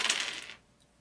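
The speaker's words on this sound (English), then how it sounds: "So I just need somebody to roll 6 dice to hit him." A handful of dice clatter during a Shadows of Brimstone tabletop board game session, one quick bright rattle that dies away within half a second, followed by a faint tick.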